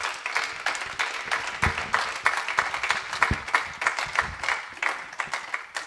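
A church congregation applauding for their pastor, a dense, fairly close burst of rhythmic clapping with crowd noise rising and falling steadily throughout, no voices standing out.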